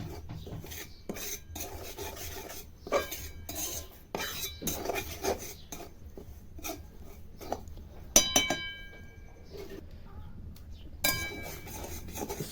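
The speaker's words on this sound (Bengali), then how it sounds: "এইভাবে ভালো করে লেড়ে আমি একটু ভেজে নেবো সুজিটা" Dry semolina stirred and fried in a wok (kadai) with a spatula, giving close, repeated rasping scrapes in uneven strokes, with a few brighter clinks of utensil against metal.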